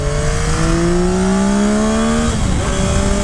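A loud 2022 Yamaha Tracer 9 GT motorcycle engine revs steadily higher, its pitch climbing smoothly before dipping briefly as the revs shift, continuous and close throughout.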